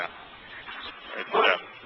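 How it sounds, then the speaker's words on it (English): A dog yips and barks in the background of a remote Torah study session, short bursts peaking late and fairly loud over a thin, band-limited line. "I don't know who's got the dog in the background there"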